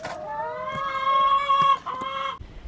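A hen lets out a drawn-out, melodic clucking call close by, a single sustained vocalization that breaks off near the end.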